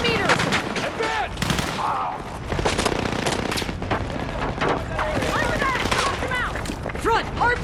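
Rapid bursts of machine gun fire in the military shooter Battlefield 6, loud and close, rattling in dense rhythmic volleys with heavier booms mixed throughout, a battlefield din with no pause.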